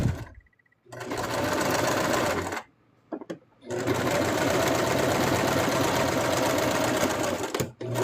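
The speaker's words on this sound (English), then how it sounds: "I'm going to sew this wedge." A sewing machine runs in two steady bursts while stitching a fabric wedge on a handmade plush toy, pausing briefly in between and stopping again near the end, close and loud with no talking.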